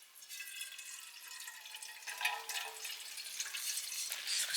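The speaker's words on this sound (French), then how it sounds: "Petite l'eau qui coule là, sur le feu" Water trickling and hissing onto a campfire in a forest, a faint steady sizzling trickle with small drips, no talk.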